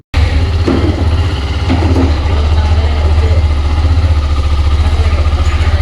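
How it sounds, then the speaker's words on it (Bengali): A Hero Xtreme 125R motorcycle's 125 cc engine idles up close, a loud steady low throb with a rapid even pulse and a couple of slight revs, running alone without talk. "রোজ ভিডিও শুরু করার আগে বাইকের সাউন্ডটা একটু শুনুন"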